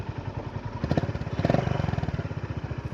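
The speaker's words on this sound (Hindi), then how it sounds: "पहले नॉइज़ सुनते हैं इंजन की, ये आइडल पे है" A stock Honda H'ness CB350 single-cylinder motorcycle idles after starting, a steady low rhythmic thump with even exhaust pulses, close and fairly loud, with a slight swell midway.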